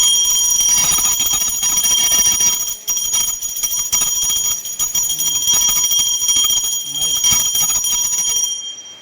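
A puja bell rings continuously during a Nag Panchami worship in a Konkan household, a bright, shimmering ring held for several seconds while people talk nearby.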